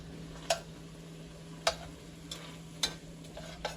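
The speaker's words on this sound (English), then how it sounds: "now I'm going to add our Velveeta cheese until that's nice and melted. I'm just going to break it up so it melts a little faster" A spatula breaking up Velveeta cheese as it melts in a pan, heard as four or five spaced, crisp taps against the pan over a faint sizzle and a steady low hum.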